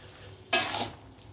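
Beef tendon tongseng gets stirred in a pan, a single short scraping swish with a brief sizzle rising over a quiet kitchen hiss, close by and then fading.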